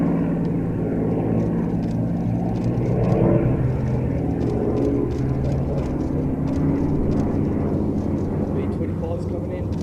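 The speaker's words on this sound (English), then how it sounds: "in the lead now we have the P-38 pulling up into a three-ship loop with that P-51 on his left wing and the Corsair on the right" Propeller warbirds, a P-38 leading with a P-51 and a Corsair, drone overhead through a three-ship formation loop at an air show, a steady engine roar rising and falling at moderate distance.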